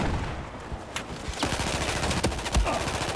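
Rapid gunfire from the Battlefield 4 multiplayer video game, with several sharp shots and bursts cracking across a steady loud battle background.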